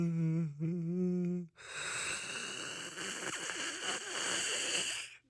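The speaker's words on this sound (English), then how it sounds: "That was a big, refreshing yawn for me." A long, deep human yawn begins with a loud voiced groan that breaks off, then trails into a drawn-out airy exhale lasting several seconds, close and alone.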